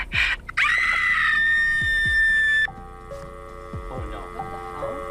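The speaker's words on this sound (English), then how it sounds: "The last message ended with a scream." A scream in a recorded message, a sharp high wailing cry that holds for about two seconds and then breaks off, followed by fainter electronic tones and scattered thumps.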